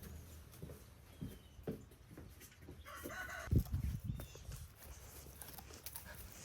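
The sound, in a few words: farm chickens clucking at feeding time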